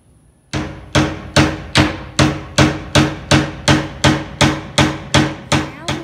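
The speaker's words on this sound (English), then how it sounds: "now we're just gonna get our hammer and nail it all around" A hammer drives nails into the plywood floor of a tortoise enclosure, about a dozen sharp, evenly spaced strikes in a steady rhythm, loud and close with no talking.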